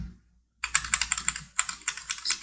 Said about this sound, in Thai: กดลูกศรลงที่บนคีย์บอร์ดครับ